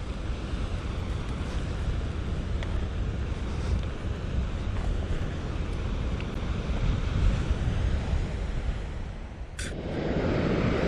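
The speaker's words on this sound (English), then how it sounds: "Hopefully not get swamped by one of these waves that comes in" Ocean waves wash onto a rocky beach on a wild coastline, a continuous rough roar of surf mixed with wind buffeting the microphone, loud and close, with a brief gust near the end.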